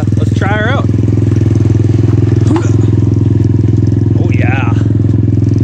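A small pit bike engine fitted to a converted trike runs on fresh ice, holding a loud, steady close-up drone while someone briefly speaks over it.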